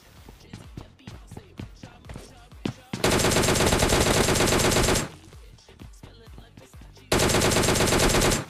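A DP-28 machine gun fires in PUBG Mobile Lite: two loud sustained bursts of rapid automatic gunfire, the first lasting about two seconds and the second coming near the end, after a stretch of quieter clicks and footstep-like taps.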